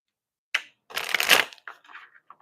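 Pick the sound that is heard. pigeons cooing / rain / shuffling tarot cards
shuffling tarot cards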